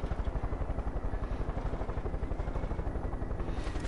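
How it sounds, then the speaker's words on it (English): A helicopter from the video game Far Cry 5 thuds with rapid, steady rotor chop, loud and close throughout, with no talk over it. "Helicopter."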